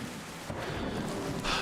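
Steady rain in the video game Terra Nil, heard as a dense, even hiss of falling water that holds at a constant level throughout and swells slightly louder near the end.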